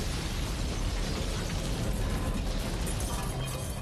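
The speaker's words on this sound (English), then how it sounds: "a terrifying explosion rips through Legian Street" A van bomb explodes on Legian Street in Bali, outside a crowded bar, heard as a dense, sustained roar of blast noise and rumbling debris filling the whole clip at steady loudness.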